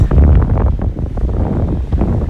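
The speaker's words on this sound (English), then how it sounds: "There goes that wind." Heavy wind at the Brooklyn Bridge in New York City buffets the microphone in loud, low rumbling gusts throughout, with no voices.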